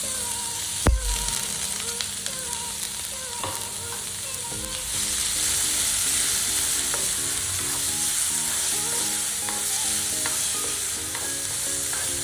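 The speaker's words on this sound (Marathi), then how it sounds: "आता यामध्ये आपण कांदा परतून घेणार आहोत" Chopped onions sizzling in hot oil in a pan while cooking kande pohe, with a steady loud frying hiss and occasional scraping stirs of a spoon throughout.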